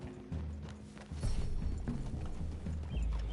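A horse's hooves clip-clop steadily in Red Dead Redemption 2, a game set on a snowy trail through a clearing near trees. The hoofbeats are close and fairly loud and grow denser partway through, with no talking.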